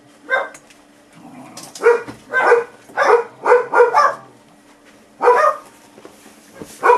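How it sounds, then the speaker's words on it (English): A dog barks in short bursts, two or three at a time with brief pauses between, loud and close in an otherwise quiet room. "while the dog's barking"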